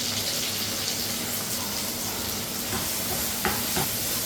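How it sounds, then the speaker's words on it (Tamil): Frozen vegetables, onion and cabbage, sauté over high heat in a loud, dense hiss that fills the whole stretch, with a couple of faint stirring knocks near the end. "அடுப்பை பெருசாக வச்சுட்டே இதெல்லாத்தையும் வதக்கிடுவோம்"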